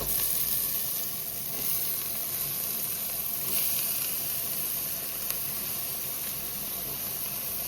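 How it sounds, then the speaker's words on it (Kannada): Leafy greens hiss and sizzle in a hot tempering for a Kannada-style greens stir-fry, a steady, close, bright frying noise with faint stirring scrapes and occasional crackles, with no talking. "ಆಗ್ಲೇ ತಟ್ಟೆಯಲ್ಲಿ ಇಟ್ಕೊಂಡಿದ್ವಲ್ಲ ಸೊಪ್ಪು, ಅದನ್ನ ಇವಾಗ ಒಗ್ಗರಣೆಗೆ ಹಾಕ್ತಾ ಇದೀವಿ ನೋಡಿ."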